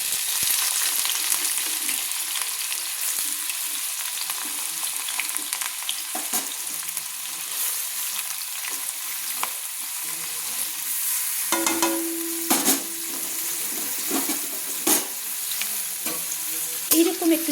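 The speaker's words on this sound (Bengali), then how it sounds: "পেঁয়াজগুলো 2-3 মিনিট আমি ভেজে নিচ্ছি নেড়ে" About 250 grams of finely sliced onions frying in a pan over high to medium flame: a loud, dense sizzle runs throughout, with repeated stirring scrapes and clinks toward the end, close up and without talk.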